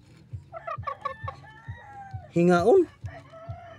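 Chickens cluck close by in short repeated calls over soft regular thumps, with one loud drawn-out squawk midway; a voice speaks briefly.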